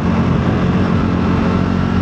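A modified car engine with a revised valve train, air intake and cam profile runs loud and close, a thick steady rumble throughout the short stretch without clear rises or falls.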